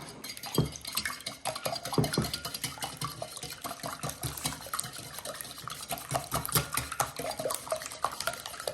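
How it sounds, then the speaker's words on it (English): Eggs whisked in a bowl for mac and cheese, a rapid, continuous clatter of a whisk against the bowl's sides, close and fairly loud with uneven rhythm. "we're just gonna go ahead and whisk these up."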